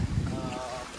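Wind at Lake Holon rumbles and buffets against the microphone in a steady, close roar, with a faint voice briefly rising above it.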